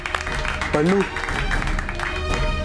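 An audience claps for a prize winner at a trophy presentation, applause running under a voice calling out and other talk throughout.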